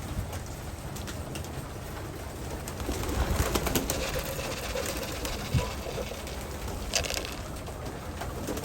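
Racing pigeons feeding in a loft, with soft cooing and scattered pecking and shuffling over a steady rain-like patter of grain and movement, fairly quiet and continuous.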